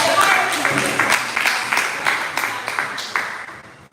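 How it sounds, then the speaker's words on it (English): Applause at a fundraising launch for a school pavement project, a short burst of fairly close clapping from a modest crowd that gradually tapers off over a few seconds. "Give them a round of applause."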